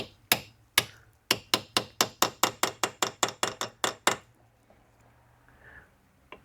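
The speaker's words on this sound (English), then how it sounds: "we're going to see if we can tap a rivet through the epoxy there" A hammer taps a rivet through epoxy on a clutch disc, about fifteen sharp metallic blows in a quick steady rhythm, close and loud, followed by quiet.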